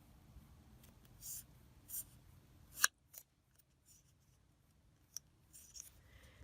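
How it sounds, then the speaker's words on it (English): Scissors snip through scrapbook paper in a few quiet, separate cuts close up, including one sharp louder snip, between stretches of near silence. "And I'm going to trim."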